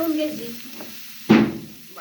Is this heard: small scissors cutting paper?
no